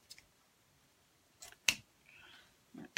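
Scissors snip ribbon for a spring bird wreath bow in a few sharp, close cuts spread across a quiet stretch, with soft rustling of ribbon between them.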